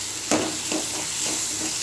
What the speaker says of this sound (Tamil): இந்த தக்காளி நல்லா மசிகிற அளவுக்கு நல்லா வதக்கிக்கலாங்க.